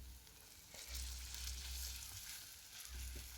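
Cake layer batter frying in a covered pan gives a steady, close sizzle with a constant crackling hiss, alongside a low intermittent rumble.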